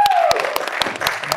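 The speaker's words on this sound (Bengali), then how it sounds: "জোরে হাততালি" Loud, close applause from a crowd at an award ceremony, dense clapping filling the short burst while a voice speaks over it.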